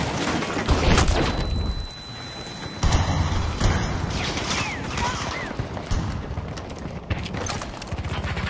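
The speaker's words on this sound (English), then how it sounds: "Tossing grenade!" Grenade blast and combat noise in the shooter game Battlefield 2042, a sudden loud boom with scattered gunfire, impacts and debris clatter around it, dense and close, with faint voices mixed in.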